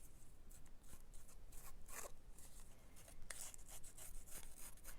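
Paper card edges are distressed with a tool, giving faint, repeated scratchy rubbing and scraping strokes at close range with no talk.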